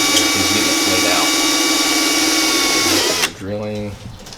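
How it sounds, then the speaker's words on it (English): A power drill bores into the back of an electrical breaker panel during a garage upgrade to 240V, running as a steady, loud whine for about three seconds before cutting off, followed by a brief voice. "So drilling back of it."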